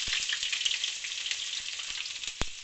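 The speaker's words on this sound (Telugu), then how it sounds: "వేరుశనగపప్పు, అన్నీ వేసుకొని ఇలా వేయించుకోవాలి" Onions, peanuts and other ingredients frying in hot oil in a pan, a steady close crackling sizzle with scattered pops and one sharper snap near the end, no voices.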